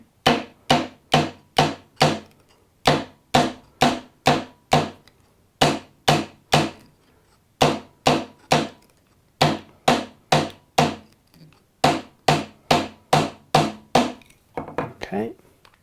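Repeated hammer blows drive a metal hoop down onto the wooden handle of a Japanese chisel. The strikes are sharp and near, landing in quick bursts of four to six with short pauses between groups.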